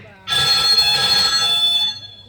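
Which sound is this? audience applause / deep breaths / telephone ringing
telephone ringing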